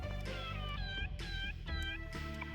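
The lucky cat in the Persona 2: Eternal Punishment video game meows three or four times in quick succession, clear and fairly close, over steady game background music.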